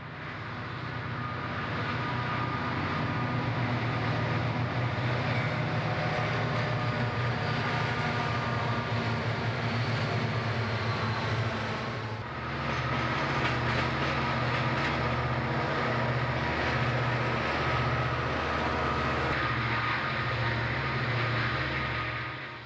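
Conrail freight trains working up grades with helper locomotives, a steady loud rumble of diesel engines and rolling cars that continues for the whole stretch, with a low throbbing engine drone and no talk.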